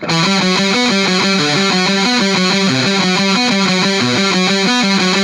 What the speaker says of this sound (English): I think I'm actually quite happy with the way the DS-1 is sounding thus far